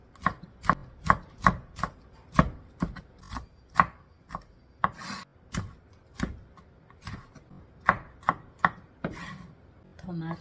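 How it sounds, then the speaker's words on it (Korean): Knife chopping red and yellow bell peppers on a cutting board, a steady series of crisp close taps, quick at first then looser and more irregular, with no talk. "썰어줍니다."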